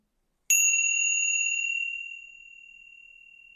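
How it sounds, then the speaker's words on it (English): A single meditation bell struck once, a clear ringing tone that rings out alone and slowly fades over several seconds. "And now with the third bell,"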